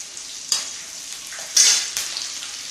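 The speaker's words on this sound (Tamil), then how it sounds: "இப்போ இதில் கருவேப்பிலை ஆட் பண்ணிக்கலாம்" Curry leaves and cashews frying in hot oil for a millet semiya upma give a steady soft sizzle with a few sharper crackling bursts as the leaves hit the oil, no talk.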